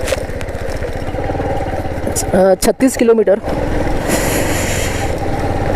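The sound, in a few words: Bajaj Platina motorcycle engine while riding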